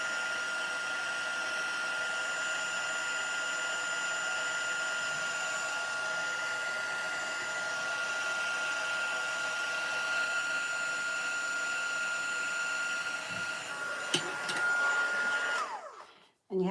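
A heat tool blows with a steady, even whir as it melts embossing powder on a handmade card, running close and continuous before switching off abruptly near the end.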